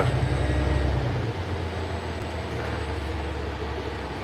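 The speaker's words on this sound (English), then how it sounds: "It sounds just like the rest of the other buses." A new MBTA New Flyer XDE40 hybrid transit bus on Route CT3 runs with a steady low engine and road rumble, heard from inside the cabin, continuous with no talk.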